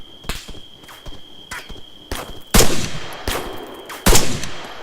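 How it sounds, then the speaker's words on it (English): Enemy gunfire at night in the military shooter Arma 3: sharp, separate cracks arriving in irregular bursts, several louder and nearer shots standing out over a faint, steady background tone, with no voices. "They're taking pot shots"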